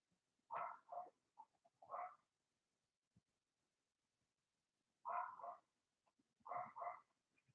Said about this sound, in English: hear the dog barking in the background